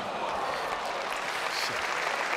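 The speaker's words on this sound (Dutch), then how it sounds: "Goed punt en terecht het applaus van het publiek nu." Audience at an exhibition tennis match breaks into steady, even applause that keeps going evenly without pause, with no voices standing out.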